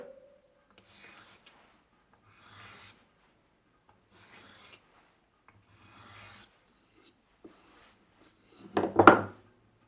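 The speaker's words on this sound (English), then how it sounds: "now I'm just going to hit it on the stone and give it a strop" A knife blade, forged from an old horseshoe, is stroked across a whetstone in about five slow, evenly spaced rasping passes. The passes are quiet and close, followed by a louder, rougher scrape at the end.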